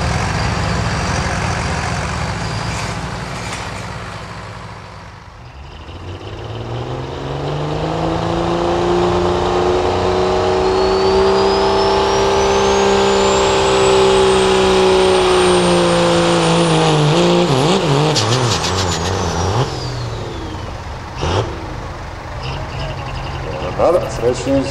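A pro street diesel truck roars under heavy load during a truck pulling event in Versailles, Kentucky, its loud sustained engine note climbing and falling for about fifteen seconds, with an announcer talking over it and crowd noise at the end.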